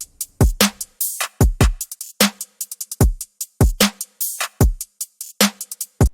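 A hip hop beat built in FL Studio plays alone, with punchy kick and snare hits in a steady rhythmic pattern and crisp hats between them.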